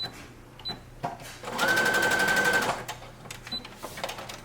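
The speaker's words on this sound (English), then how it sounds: "I usually top stitch it with a zigzag stitch." A sewing machine runs a zigzag top stitch for about a second mid-clip, a steady rapid mechanical whir with a faint whine, preceded and followed by quieter handling sounds.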